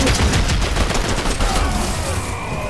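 Shotgun fire in the Fortnite video game, dense overlapping gunfire and clattering game effects filling the whole stretch, loud and continuous.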